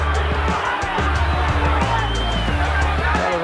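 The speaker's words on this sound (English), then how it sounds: "And some booing coming from the crowd." Crowd noise at the Mike Tyson versus James Smith boxing match, a steady loud arena din with booing under a commentator talking.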